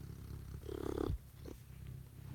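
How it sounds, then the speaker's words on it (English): A cat purrs softly up close, a low rumbling hum with a brief louder burst in the middle, no speech over it. "You can hear him purring."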